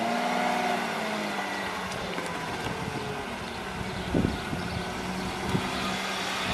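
A BMW E36 engine runs with a low, steady drone and harmonic hum, broken by a couple of brief louder knocks or thumps toward the end, heard outdoors with some wind noise.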